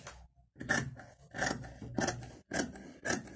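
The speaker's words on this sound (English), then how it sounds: "So I'm going to go ahead and cut this out." Scissors cutting out a fabric pattern for ankara shorts, five or six close crisp snips with short gaps between them, alone and fairly quiet.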